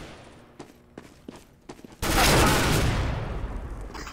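Gunfire in CSGO, a few spaced single shots and then a loud, sustained burst of rapid automatic fire that fades gradually, close and dominant.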